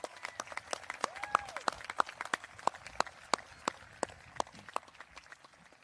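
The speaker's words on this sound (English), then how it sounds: "How about a round of applause for Colleen and Caden?" Sparse, distinct hand claps from an audience at a high school commencement ceremony, fairly faint and spread out, with a few murmured voices.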